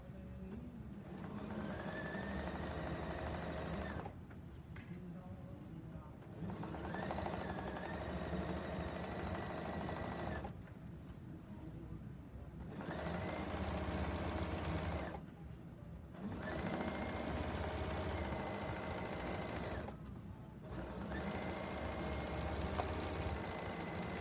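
A sewing machine stitches quilt binding in steady whirring bursts of several seconds each, separated by brief pauses, close and continuous with no talk.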